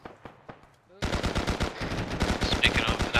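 Rapid bursts of automatic gunfire from a military simulation operation, a quiet stretch of faint sounds giving way to loud, sustained shooting with sharp repeated cracks close by.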